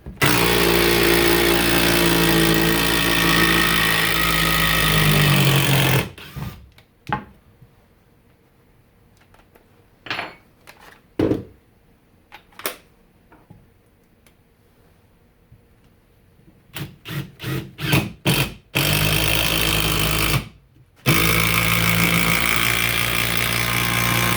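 Makita XDT15 sub-compact impact driver on a 5 amp battery drives a 6-inch structural screw in a loud sustained hammering run, then goes quiet apart from scattered clicks and knocks before a second loud burst.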